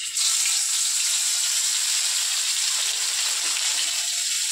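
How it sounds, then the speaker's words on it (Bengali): Stuffed, battered food frying in oil, making a loud, dense, continuous sizzle that stays steady and close from start to finish with no talking. "এরকম ভাবেই ভেজে নেব।"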